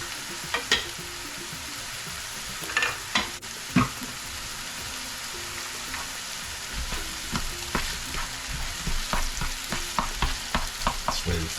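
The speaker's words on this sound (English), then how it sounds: "let's put the onions in there, the tomato paste, and then we'll go with the olives" Onions, tomato paste and olives sizzle in a pan for Keshi Yena, a soft steady fry broken by repeated close scrapes and knocks of a spoon stirring.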